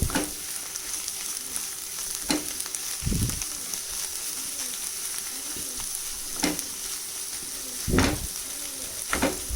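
Palak paneer bhurji seasoned with salt and kasuri methi sizzles steadily in a pan, with a few louder scraping clatters from stirring breaking through the close, continuous frying hiss.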